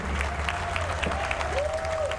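A crowd in Dallas gives a standing ovation, a dense, steady wash of applause filling the room at a moderate distance, with a faint tonal whistle or voice riding over it.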